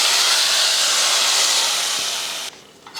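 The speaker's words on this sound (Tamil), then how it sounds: "நல்லா பொரிஞ்சதுமே மணத்துக்கு கொஞ்சம் கருவேப்பிலை சேர்த்துருவோம்" Hot curry-leaf tempering poured into kuzhambu sizzles loudly in a strong, steady hiss that cuts off abruptly, followed by a brief clatter.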